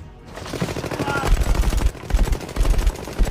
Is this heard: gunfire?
yes